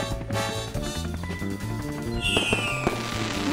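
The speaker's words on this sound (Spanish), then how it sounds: "En la parte superior de los fuegos artificiales hay sales de metal llamadas estrellas." Fireworks in a children's cartoon whistle upward and pop and crackle over a bright musical score, with several bursts that are moderately loud.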